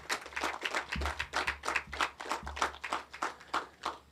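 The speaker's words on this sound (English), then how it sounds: "deserve a round of applause for a small island developing state." Applause at an outdoor arbor festival opening ceremony, a modest group clapping in an uneven rhythm of distinct hand claps, fairly close and steady with no talk.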